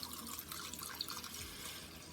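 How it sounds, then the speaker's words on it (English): Chicken broth pours steadily into a pot in a soft continuous trickle, faint and close, with no one speaking. "Going to add in 2 cups of chicken broth"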